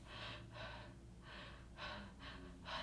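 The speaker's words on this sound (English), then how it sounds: "Like, when I breathe, it's like this." Labored, painful breathing from a person in pain after weight loss surgery, heard as six strained, rasping breaths in a steady rhythm, close and fairly quiet, with no talking.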